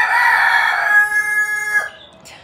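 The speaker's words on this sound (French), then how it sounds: "J'ai mon coq. À chaque fois que je vais faire un petit extrait, il chante." A rooster crows loud and near, one long drawn-out call that holds and then trails off, followed by a short softer sound.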